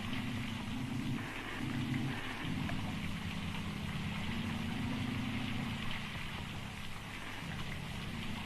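Steady rain falls outside at night with a continuous hiss, joined by a low droning hum underneath, unbroken throughout.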